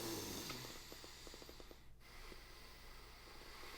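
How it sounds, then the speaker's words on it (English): Slow breaths in and out through the nose, drawn as paced breathing practice, come as soft close airy snorting pulses with faint nasal flutter, quiet and unhurried with no talking. "So I do 5 seconds in, 5 seconds out through your nose."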